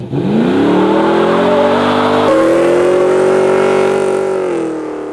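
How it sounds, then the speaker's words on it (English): A high-torque race car engine, a truck-style rig, revs loud and close in one long sustained pull, its pitch climbing then holding steady before easing off near the end, with no talking. "You just touch on the throttle and it lights the hell out of the tyres"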